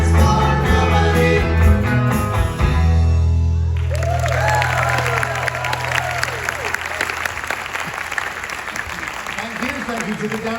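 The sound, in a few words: audience applause after a live band song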